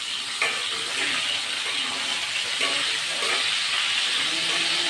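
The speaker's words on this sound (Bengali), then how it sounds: "এবার আমি দিয়ে দিচ্ছি ফুলকপিগুলো তেলের মধ্যে" Cauliflower florets fry in hot oil in a pan just used for frying fish, making a dense, steady hiss that stays loud and even throughout, with only faint clicks and no talk.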